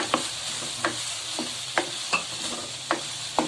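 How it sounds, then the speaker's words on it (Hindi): Potatoes, carrots, tomatoes and peas sizzle in a pan while a utensil scrapes and taps the bottom at a loose, regular rhythm, close and clear under the steady frying hiss. "ये देखिए, हम इसे टमाटर डाल दिए मैंने इसके अंदर, और ये साथ ही मटर डाल दिए मैंने इसमें।"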